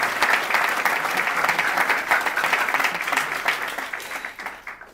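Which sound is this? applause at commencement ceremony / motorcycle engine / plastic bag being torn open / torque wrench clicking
applause at commencement ceremony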